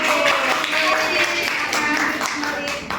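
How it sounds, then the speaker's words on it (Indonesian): A classroom full of students claps together, a steady dense patter with voices mixed in underneath. "Tepuk tangan untuk kelompok 2"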